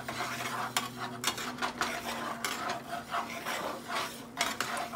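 Steady scraping and stirring of a utensil against a pan as bacon drippings brown for gravy, quiet and continuous with occasional sharper scrapes and a faint sizzle beneath.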